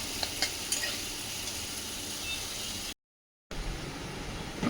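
Vegetables sizzle and get stirred in a large wok, a constant close frying hiss with occasional scraping, broken by a brief gap of silence.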